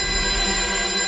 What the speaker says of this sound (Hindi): उसी नंबर से वापस फोन आ रहा है